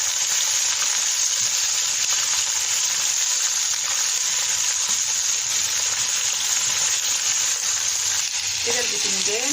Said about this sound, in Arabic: ننزل فيها البتنجان طبعا بعد ما نسخنها، نديله تشويحه